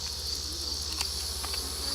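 Honey bees buzz steadily around a harvested honey frame from a first-year hive, a dense continuous hum close by with no voices.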